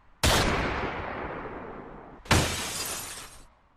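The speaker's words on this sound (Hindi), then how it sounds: "तभी फिर से एक गोली चली।" Two sharp, loud gunshot cracks, each with breaking glass, as a bullet shatters a taxi windshield in a horror story; each blast decays slowly over about two seconds.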